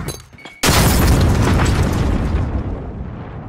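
Grenade explosion in a video game: a sudden loud, close boom after a quiet moment, followed by a long rumbling roar that slowly fades.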